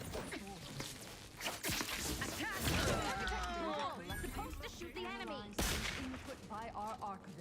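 Sporadic gunshots ring out in the video game Outer Worlds 2, a few sharp cracks scattered among game voices and effects that play throughout.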